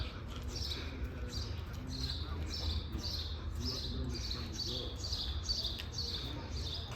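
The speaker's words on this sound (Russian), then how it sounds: "Здесь так тихо, только птички чирикают." Small birds chirp in repeated short bursts around an ancient Armenian temple, the calls steady and moderately near over a low, quiet outdoor background.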